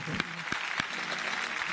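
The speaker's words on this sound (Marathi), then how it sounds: "जोरदार टाळ्या वाजवणार आहे." Studio audience clapping at a Marathi music reality show after a clarinet performance, a steady patter of applause with a few sharper claps standing out, no talk on top.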